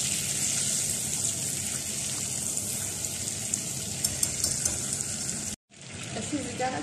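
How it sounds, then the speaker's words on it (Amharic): Butter and oil sizzle steadily in a pan with a bright, continuous hiss and a few small pops, briefly cutting out near the end before resuming. "ቂቤ ጨምራለሁ፣ 2 የሾርባ ማንኪያ የሚያክል ቂቤ፣"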